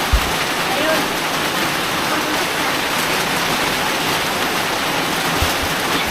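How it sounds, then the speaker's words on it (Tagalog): Steady rain falls outside a small neighborhood store, a loud, constant hiss of drops on surfaces running the whole time, with a couple of brief knocks and voices faintly mixed underneath. "Kaso ulan man."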